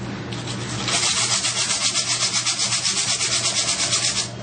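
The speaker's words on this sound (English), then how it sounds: "Use your emery cloth." Emery cloth rubs briskly over a threaded pipe fitting to strip scale and rust, a close, loud, rapid back-and-forth scrubbing with even rhythm that starts after a brief lead-in and stops near the end.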